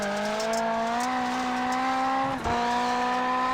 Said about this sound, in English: Love the way the cars sound tapped out when they go across the jumps.